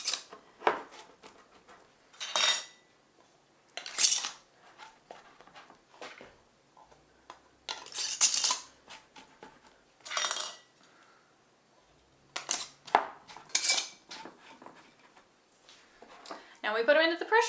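Metal canning rings being screwed fingertip-tight onto glass jars of diced tomatoes, giving intermittent bursts of scraping, clinking metal-on-glass sounds with short pauses between, close and moderately loud.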